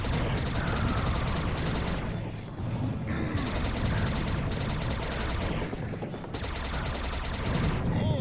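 Dense, rapid gunfire from the video game Shadows of the Empire (SSHD), a near-continuous loud fusillade of blaster shots that dips briefly twice before resuming.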